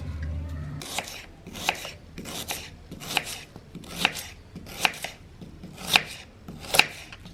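Knife chopping onions into medium slices on a cutting board, about eight steady, evenly spaced chops, close and crisp, with no talking.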